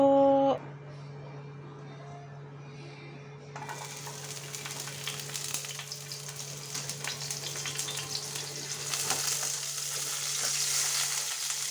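Bitter gourd with egg and spring onion starts sizzling in a pan partway through, after a quiet start. A loud, steady frying hiss then continues and builds slightly toward the end.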